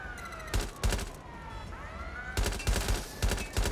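Gunfire in Watch Dogs: Legion crackles out in loud, dense volleys, one cluster early and a longer run of repeated bursts later, with a faint siren-like tone wavering in the background.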